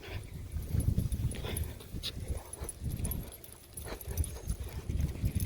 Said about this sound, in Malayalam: ആർക്കറിയാം ഏത് പട്ടിയാണ് കേട്ടത്.